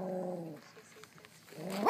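A dog gives a low, quiet growl in short rumbling bursts, faint and close, with brief pauses between.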